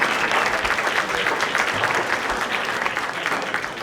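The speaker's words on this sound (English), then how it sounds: "And one more round of applause for Tina Carey." An audience at a Route 66 VIP breakfast applauds Boy Scout Troop 185 with loud, dense clapping that stays steady for a few seconds.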